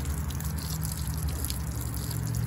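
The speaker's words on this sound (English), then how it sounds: "Every time you come off that salt water, you always wanna rinse your stuff off with fresh water." Fishing gear from a saltwater whiting trip being rinsed off with fresh water, a steady close hiss of running water with a low rumble underneath and no pauses.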